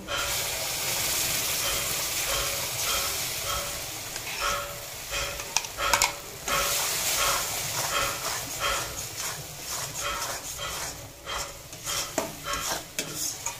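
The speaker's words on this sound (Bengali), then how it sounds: "মশলাটা কিছুক্ষণ কষিয়ে নেব" Spice paste for paneer butter masala frying and being stirred in a pan: continuous loud sizzle with repeated spoon scrapes and clinks against the metal, denser toward the end.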